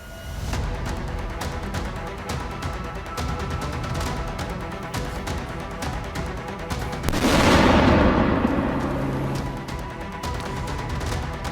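A Russian strike blows up a Ukrainian command post in Kharkiv: a heavy explosion roars out midway through, set against continuous crackling gunfire and distant booms.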